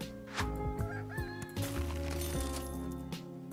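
A rooster crows in the video game Super Auto Pets, a short cartoonish cock-a-doodle-doo with clucks over bouncy game music and sound effects.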